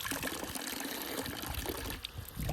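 Natural mountain spring water runs from a tap in a Swiss village, a faint, steady trickling and splashing flow heard close by with no voices over it.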